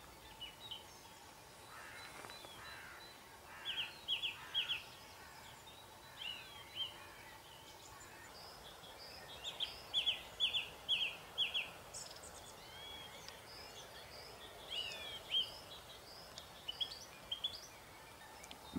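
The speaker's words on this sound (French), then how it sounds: "pas mal de chants d'oiseaux" Birds sing at dawn around an Easter bivouac campsite: scattered short chirps and trills, faint and distant over a soft background hush, with no talking.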